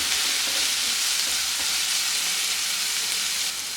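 Turmeric and chilli powder fry on a low flame for egg Maggi, giving a steady, dense close-up sizzle that holds evenly throughout without a break.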